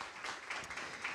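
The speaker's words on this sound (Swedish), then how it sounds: "Ja, en applåd, absolut." Audience applause at a panel discussion in Almedalen, a brief burst of scattered clapping from a seated crowd, moderately loud and steady without talk over it.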